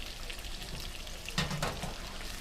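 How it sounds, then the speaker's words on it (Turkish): Vegetables sautéing in a pan on an electric stove, a steady soft sizzle with a brief burst of scraping as a wooden spoon stirs them, no talking. "herhangi bir tavada bu şekilde sotelayabilirsiniz. E, ee, tahta kaşıkla karışabilirsiniz"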